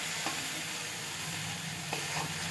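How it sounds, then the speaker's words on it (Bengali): Eggplant slices shallow-frying in mustard oil in a pan for a vegetarian Bengali mustard dish, a steady close sizzle running throughout with a couple of brief soft clinks from turning the pieces. "এটা খুব লাল করে ভাজতে লাগবে না, হালকার উপর দিয়ে ভাজবো"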